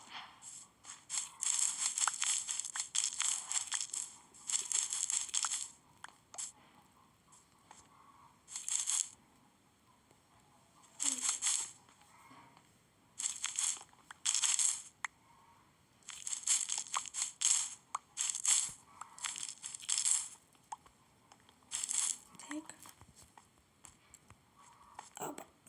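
Block breaking in the Minecraft video game, repeated bursts of crunchy crumbling clicks in quick clusters separated by short pauses, fairly close and crisp throughout.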